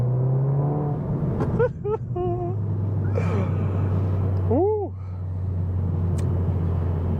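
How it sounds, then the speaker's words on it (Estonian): A SEAT Leon Cupra 300, heard from inside with the windows shut: a steady, loud engine drone with a few sharp exhaust cracks around a gear change, and brief voice sounds over it. "Väga mõnus, et käike vahetab, siis need popsenbängi kõik käib ja mul on aknad kinni, aga need kostuvad sisse"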